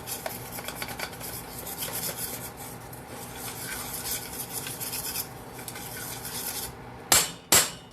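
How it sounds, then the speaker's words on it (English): Scraping and rubbing of a spoon stirring flour roux in a pan on the stove, a steady close rasping texture that runs throughout, ending in two sharper scrapes against the pan. "So you stir it, and then you want to let it cook for about a minute."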